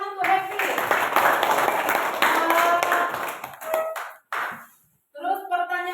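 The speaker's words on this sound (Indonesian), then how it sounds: "tepuk tangan untuk Happy" Children clapping hands in a classroom, a lively round of claps mixed with young voices that stops abruptly, followed by a brief pause and then voices again.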